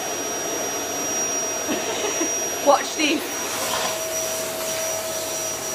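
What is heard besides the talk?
vacuum cleaner running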